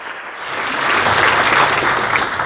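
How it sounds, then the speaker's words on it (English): An audience at a school sport awards event breaks into a round of applause, a dense, steady wash of clapping that swells slightly and holds loud throughout. "Please give them a round of applause once again."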